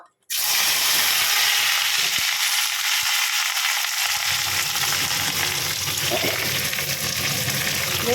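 Jackfruit pieces hit hot oil in a pan and set off an abrupt, loud sizzle that keeps hissing steadily, with occasional clicks and light stirring.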